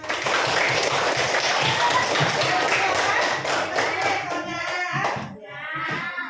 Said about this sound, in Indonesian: Tepuk tangan untuk kawannya